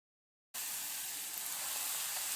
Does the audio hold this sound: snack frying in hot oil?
yes